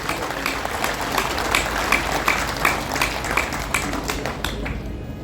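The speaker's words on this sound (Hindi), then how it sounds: "जोर से ताली बजाइए आप, जोर से ताली बजाइए" An audience claps steadily throughout, dense applause with distinct louder claps standing out, fairly close and sustained.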